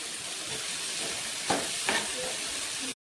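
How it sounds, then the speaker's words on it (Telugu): Garlic and onion fry in oil over a high flame, giving a steady close hiss with two brief louder bursts of stirring before it cuts off. "ఆయిల్ వేసుకొని మనం ఫస్ట్ కట్ చేసి పెట్టుకున్న గార్లిక్ అండ్ ఆనియన్ ఇవి 2 వేసేసుకున్నాము. వేసేసి హై ఫ్లేమ్లోనే పెట్టి మనం ఫ్రై చేసుకోవాలి."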